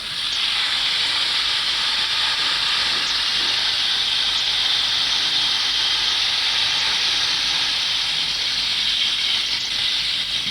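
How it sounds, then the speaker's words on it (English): A loud, continuous hiss of escaping steam holds steady and close for about ten seconds, like a train venting as it comes to rest. "I'm looking for a good sound for the hissing steam when the train stops."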